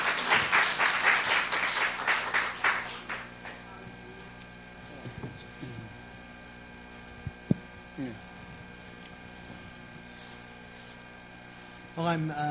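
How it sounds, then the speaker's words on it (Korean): An audience at a lecture on the Fourfold Gospel claps to welcome the guest speaker, a few seconds of rhythmic applause fading into a quiet, hum-filled room, with a brief renewed burst of clapping at the close. "이제 우리 한 분 박수로 환영드리겠습니다"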